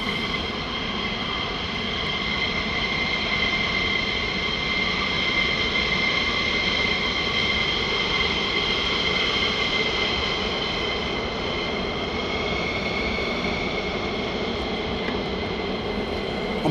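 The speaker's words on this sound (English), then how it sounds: "let me know if you can hear the planes okay" Aircraft at RAF Lakenheath fly at night, a steady, loud jet engine roar with a high whine that holds without a break, with no voices.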